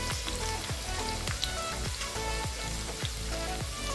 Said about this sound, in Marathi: लसूण लालसर होऊ द्यायचा आहे